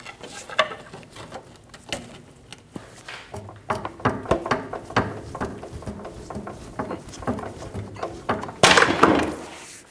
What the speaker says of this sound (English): To do this, we're going to use a pry bar.